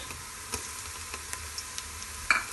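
Ginger garlic paste fries with onions in a pan, a faint steady sizzle broken by light ticking taps of a spoon stirring at irregular intervals.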